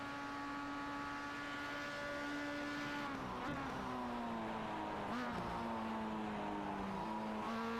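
A Spec-5 race car laps Sebring in a racing sim, a steady high engine whine that holds pitch, then drops and climbs in steps through downshifts and corner exits, continuous and close.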